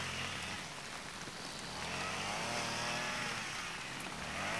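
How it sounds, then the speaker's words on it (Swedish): Steady rain pattering on a surface, a dense wash of hiss that holds level throughout with no pauses. "Nu börjar det, nu börjar det regna på oss."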